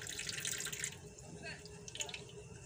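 Running tap water splashes steadily over a threadfin salmon being washed in a sink, a continuous close hiss of flowing water with small irregular splashes throughout.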